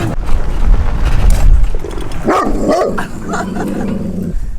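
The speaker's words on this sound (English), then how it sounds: "That's Paul's dog, I think I heard" A dog barks a few times at a distance outdoors, the short barks rising over steady rumbling background noise, with no one talking.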